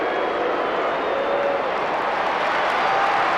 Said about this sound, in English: Applause for Campbell from Tiger fans as Carey tries to close the gap